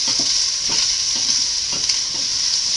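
A small sweet onion sautés in a pan with a steady, bright sizzle, broken by soft scraping as it is stirred now and then.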